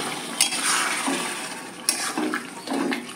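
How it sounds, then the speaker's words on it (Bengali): Hot water is poured into a pan of Bengali green jackfruit and prawn curry with potatoes as it cooks, making a soft splashing trickle with a few brief surges. It is fairly faint and close, with no talking. "আমি এবার সামান্য গরম জল দিয়ে দিচ্ছি।"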